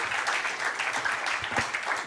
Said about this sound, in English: may I request the audience to give them a big round of applause for the insights that they shared